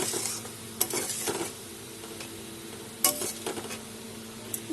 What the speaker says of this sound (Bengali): এখন ফুটে উঠলে মাছগুলো দিয়ে দিলাম